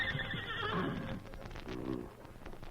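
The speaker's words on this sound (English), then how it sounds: "the great horse Silver aroused them with a whinny of warning" A horse whinnies loudly as a warning in an old Western radio drama, one long, wavering neigh followed by a shorter snort-like whinny, close and alone with no talk.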